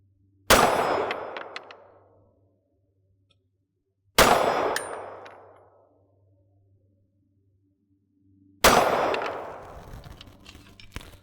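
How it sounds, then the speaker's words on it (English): Three Canik TP9 pistol shots strike steel targets, each a sharp loud clang that rings out and decays over about a second or two, spaced several seconds apart in an otherwise quiet setting. "So this version of the Canik I'm shooting is a TP9."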